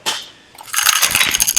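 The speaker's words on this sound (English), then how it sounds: "The noise you can hear inside, they're the little beads that locks it up." Small locking beads rattle and clatter inside a car safety mechanism from a 2009 Audi, a brief shake followed by a dense burst of quick, close rattling.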